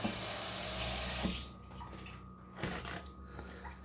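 Tap water runs loudly in a kitchen while something is rinsed off during sugar-free chocolate cheesecake prep after the graham cracker crust. The gush stops after about a second, leaving quieter clinks and handling noises.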